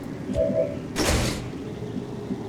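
A door in the strategy game XCOM 2 slides open with a short mechanical whoosh, a brief loud burst over a low ambient game hum, preceded by a small electronic chirp.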